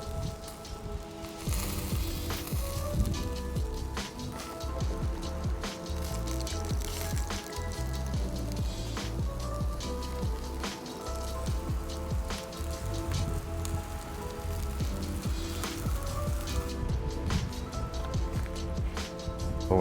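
Yakitori chicken skin crisping over binchotan charcoal on a 24-inch Binch grill, giving a steady crackling sizzle with sharp pops and spits throughout, close and continuous with no talking.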